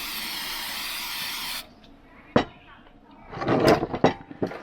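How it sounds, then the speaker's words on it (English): Cooking spray hisses onto a pan in a campervan kitchen during meatloaf prep. One steady spray burst lasts about a second and a half, followed by scattered knocks and clatter of cookware. "Add a little cooking spray to this pan just to be sure."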